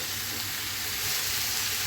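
Bitter gourd frying uncovered in a pan, a steady, dense sizzle and crackle of oil that holds evenly throughout at close range with no voices.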